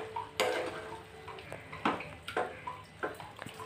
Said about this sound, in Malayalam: ഇനി ബീഫും മസാലയും ഒക്കെ നന്നായി പിടിക്കുന്ന രീതിയിലൊന്ന് ഇളക്കി കൊടുക്കാം